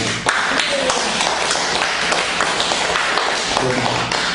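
A church congregation applauds during a Sunday worship service, with a dense spread of hand claps that runs continuously through the whole moment.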